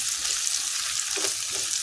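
Onions frying in a pan with green chilli and ginger for a paneer dish give a steady, close hiss with a couple of soft stirring scrapes. No one speaks.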